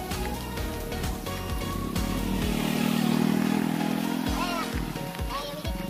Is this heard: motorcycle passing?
yes